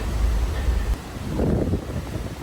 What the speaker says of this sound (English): at the moment we have southwesterly wind gusting up to 35 knots